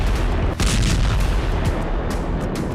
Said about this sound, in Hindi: उसके बाद धमाके होते हैं।